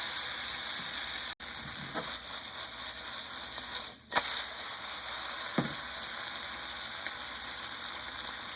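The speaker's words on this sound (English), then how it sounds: "Now I'm going to flip another side and stir gently." Eggs and noodles for Pad See Ew stir-fried in a hot pan, a loud steady sizzle with a few scraping flips and stirs, one abrupt dropout early on.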